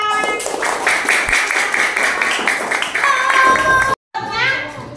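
Young children clapping together for a group in a classroom during a geometry lesson, a steady burst of rapid hand claps mixed with children's voices, then a short break and chatter.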